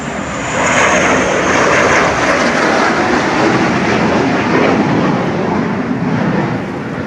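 A Mercruiser 454 MK IV marine engine with a blueprinted bottom end, running out of the water on the hard, gives a loud, steady, broad roar that holds constant throughout.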